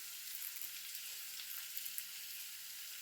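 Curry leaves sizzle and crackle in hot oil for red rice-flake upma, a steady bright frying hiss with small pops throughout, close and fairly quiet, with no voices.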